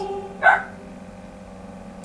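A single short dog bark sounds once in a quiet room over a low steady hum.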